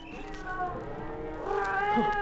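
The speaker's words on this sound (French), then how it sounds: "Écoute, Picot, j'entends des chatons qui miaulent." Several small, high-pitched meows overlap, like kittens crying nearby, with a background hum.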